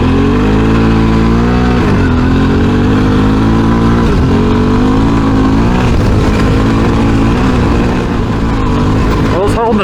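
A dual-sport motorcycle rides over loose, dry gravel on Motoz Tractionator Dual Venture tyres, its engine droning loud and steady with rising and falling revs and the crunch of stones mixed into the roar throughout.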